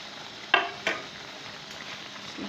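Green chillies and fresh coriander frying in a pan, a soft steady sizzle broken by two sharp scraping clicks of a spoon stirring, close and quiet.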